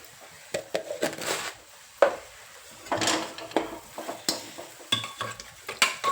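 Sliced onion softened with soda is sautéed in a pan as salt goes in, with repeated scraping stirs of a spatula against the pan over a soft sizzle, in irregular bursts close by and without speech.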